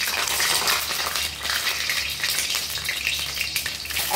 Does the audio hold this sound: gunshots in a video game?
no